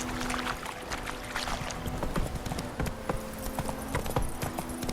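Hooves of Geralt's horse Roach in The Witcher 3 clip-clop at a steady walking rhythm over a continuous ambient game backdrop, moderately loud with no talk.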